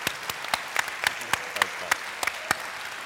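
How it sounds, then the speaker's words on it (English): Loud applause from an audience at a panel discussion, with sharp individual claps standing out over a steady wash of clapping hands. "Let's give a loud round of applause for this phenomenal panel here."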